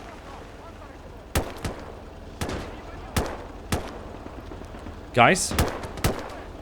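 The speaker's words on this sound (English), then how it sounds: "I'm hearing Finnish Lati machine guns back here." Finnish Lahti machine gun fire in a Winter War battle at Summa in Gates of Hell, heard as short sharp bursts and single shots spaced a second or so apart at mid distance, with a voice speaking briefly near the end.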